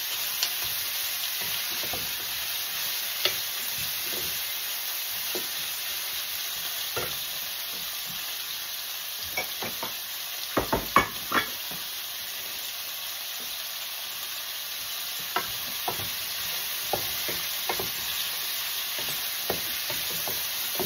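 Vegetables sauté in hot oil for sweet and sour meatballs, a continuous close sizzle with scattered scrapes and clicks of a utensil stirring the pan.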